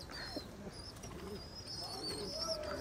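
A chot pigeon coos in low rolling bursts nearby, fairly quiet against background hiss, with scattered high bird chirps and a hint of a voice mixed in.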